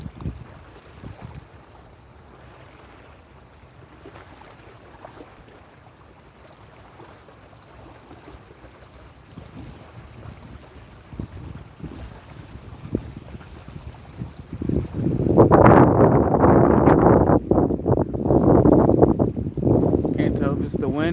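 Strong wind blows across a lake during cold-weather boat fishing for catfish in a flooded cove, a steady low rumble of buffeting that swells into loud, roaring gusts over the final several seconds.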